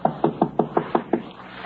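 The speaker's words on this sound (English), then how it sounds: "He knocks on the door." Seven evenly spaced knocks on a front door ring out close and clear in an old-time radio drama sound effect, a steady rhythm of sharp raps with no voices.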